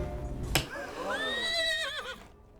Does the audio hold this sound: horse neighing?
yes